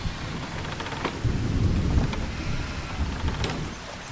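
Steady rain hisses with a low rolling rumble of thunder in a Farming Simulator 25 farm setting, with a few sharper crackles breaking through the downpour and no talking.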